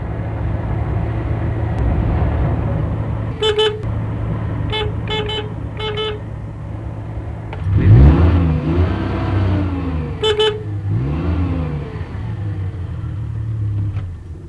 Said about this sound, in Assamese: যেতিয়া চলিহাৰ গাড়ী গৈ জেউতীহঁতৰ পদূলিত ৰলগৈ